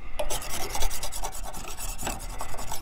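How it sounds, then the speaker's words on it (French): Small knife scraping residue off a beekeeping hive tool, quick repeated rasping strokes, close and fairly loud, with no voices. "je gratte tout ce qu'il y a"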